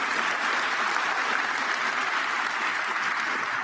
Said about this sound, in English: Big round of applause to Pierluigi Collina